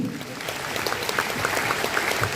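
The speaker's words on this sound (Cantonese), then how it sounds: "俾啲掌聲嘅大師先。" Applause fills the hall at the Sun Beam Theatre during a celebratory Cantonese opera gala night, a dense sustained clapping from a sizeable audience with a voice faintly present beneath it.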